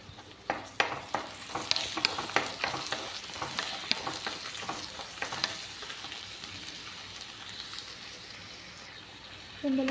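Chopped green chillies hit frying okra (bendakaya) in a pan, a sharp sizzle followed by a series of stirring scrapes and crackles that gradually settle into a quieter steady fry.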